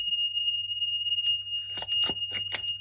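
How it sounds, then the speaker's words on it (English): A small bell rings a few times during a tarot card reading, with bright sustained chiming tones and a couple of sharper strikes near the end, fairly clear over a low steady hum. "I'm going to do a little bell dong"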